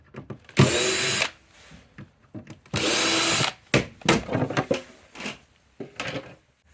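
A power drill backs two screws out of the front door of a Balboa hot tub spa pack, giving two loud whirring bursts close by, each about a second long, followed by handling clatter and small knocks.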